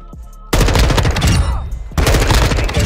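Rapid automatic assault-rifle fire in a first-person shooter game rattles loudly in two close bursts, separated by a brief lull, with a low hum before the shooting starts.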